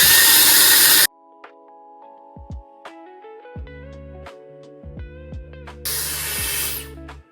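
A hair dryer blows loudly for about a second, then cuts off, leaving quieter household sounds and tonal clicks before the dryer roars back on near the end while a round brush styles a fringe.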